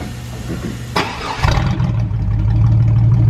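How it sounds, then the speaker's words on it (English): A cheap used truck with its exhaust cut off with a reciprocating saw, cranked up: the starter catches, the engine fires loudly and settles into a rough, booming idle that grows louder toward the end, close and without talk. "Yeah, go ahead and crank it up."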